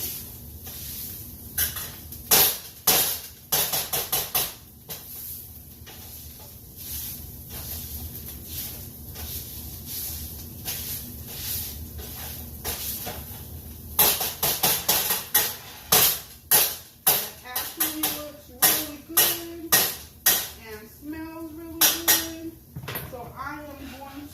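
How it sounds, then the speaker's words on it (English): A potato masher chops a vegan mushroom and fakin' bacon stuffing mixture in a pan on the stove. Close, sharp metallic knocks come in irregular rapid bursts over a low background hiss, with quieter stretches between the clusters. "I am going to take my potato masher and see if I can't just chop it up a little finer"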